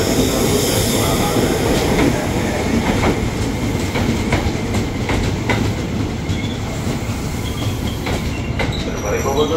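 An electric commuter train rumbles steadily past at close range at Universitas Indonesia station, wheels clacking rhythmically and squealing faintly on the rails throughout.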